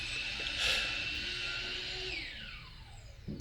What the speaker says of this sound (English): I love the sound of saws in the morning.